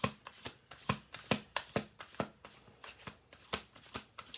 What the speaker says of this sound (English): I'm going to do this one last shuffle through.